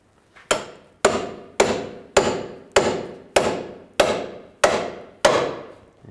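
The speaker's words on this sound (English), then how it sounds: "Now I'm going to separate that lower ball joint with a pickle fork." A hammer strikes a pickle fork driven under the lower ball joint of a 2003-07 Cadillac CTS front suspension. Nine sharp, ringing metallic blows land at a steady pace of roughly one every half second.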